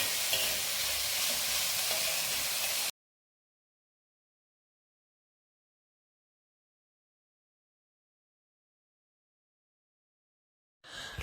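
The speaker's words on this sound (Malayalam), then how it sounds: "ഇങ്ങനെ ഇളക്കി നന്നായിട്ട് വഴറ്റണം" Vegetables and green chillies sauté in hot oil with stirring, giving a loud, dense sizzle close up for about three seconds. The sound then cuts to silence, and the sizzle returns briefly at the end.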